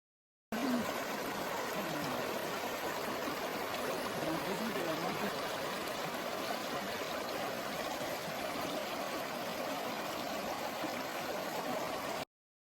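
Small waterfall feeding a stream on a forest trail in Vendée, a steady close rush of splashing, trickling water that holds unbroken and even throughout, with no voices.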